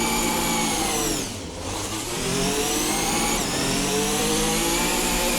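A Formula Hybrid 2022 racing car engine in a video game revs loud and high, dips briefly as the clutch is let out, then climbs again in a rising whine, steady and close with no voices.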